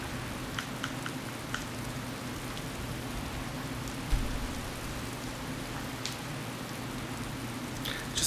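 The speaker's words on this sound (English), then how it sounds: "Whoa, raining." Rain in the video game Skyrim hisses steadily and softly, with a few faint drop ticks and one small thud midway.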